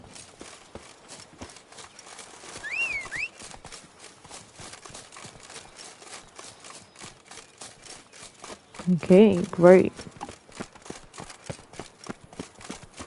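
Horse hoofbeats in The Witcher 3 sound as a rapid, steady clip-clop gallop running the whole way through, with a loud whinny near the end and someone briefly talking over it.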